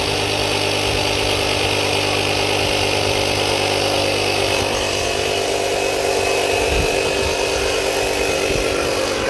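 Portable air pump running steadily while inflating a tyre, a loud continuous motor drone with buzzing hum, close and unbroken throughout.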